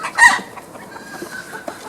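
Backyard roosters from a red mottled breeding flock give a loud, close crow-like call followed by scattered clucks and soft fowl chatter, with no talk over them.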